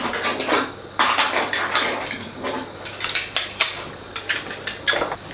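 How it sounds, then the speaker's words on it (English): Glass jars with metal lids clink and clatter repeatedly up close, uneven knocks of jars being handled and set down. "I've got a load of glass jars with metal lids"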